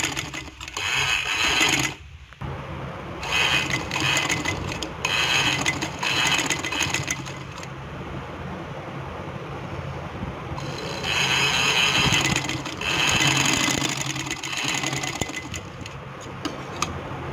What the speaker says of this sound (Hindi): इसी तरह से सारी सिलाई लगाएंगे हम।